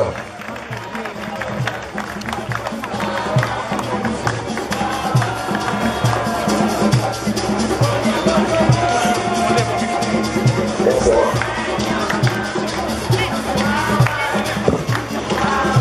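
Crowd at a stadium inauguration applauding the deputy mayor, sustained dense clapping with a rhythmic pulse and murmuring voices, steady and fairly loud over the whole stretch.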